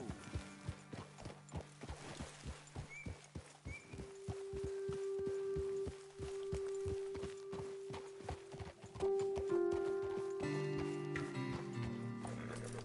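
Horses walk in Red Dead Redemption 2, their hooves giving a steady, close clip-clop under a sustained musical drone that swells toward the end.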